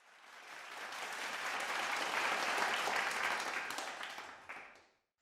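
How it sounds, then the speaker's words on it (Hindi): An audience at an awards ceremony honouring civil service toppers breaks into sustained applause that swells, holds steady and then fades out. "एक बार जोरदार तालियां हो जाए"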